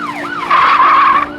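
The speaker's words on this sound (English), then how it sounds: "He heard the screeching tires behind him, the sirens of the police cars now overpowering his auditory senses." Car tires screech loudly and continuously in the foreground while a police car siren wails and sweeps up and down underneath.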